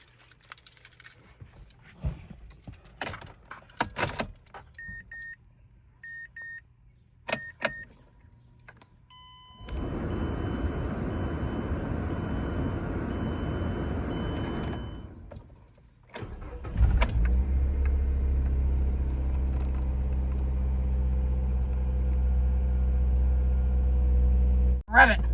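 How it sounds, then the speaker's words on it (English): A 2010 Mazda MX-5 Miata (NC) starts up: first keys jangle and a steady electric whir is heard, then the engine cranks, catches and settles into a loud, close, even idle. "Now I'm going to fire up the Miata"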